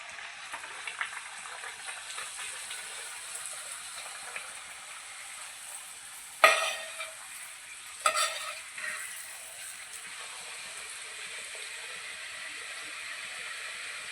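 Puri dough balls fry in hot oil with a steady, soft hiss throughout, broken by two sharp splashes and crackles as more dough drops in, then the sizzle settles again.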